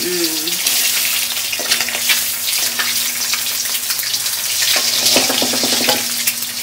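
Six eggs fry in a pan until reddish-brown, giving a continuous bright sizzle and crackle that stays steady from start to finish, with occasional spatters and stirring noises close by.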